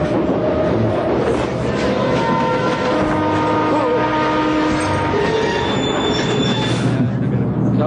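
A train with its emergency chain pulled brakes toward a halt, wheels squealing in long high tones over a steady heavy rumble of rail cars, loud and continuous throughout.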